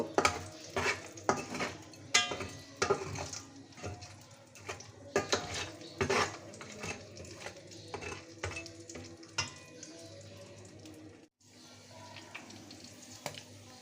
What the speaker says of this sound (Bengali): মশলাগুলো একটু ভেজে নেই এলাচ দারচিনি অল্প সময় ধরে একটু ভেজে নেব